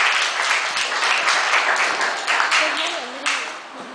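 Children clapping at a church kids' session, a dense patter of small hands under a background voice, fading near the end.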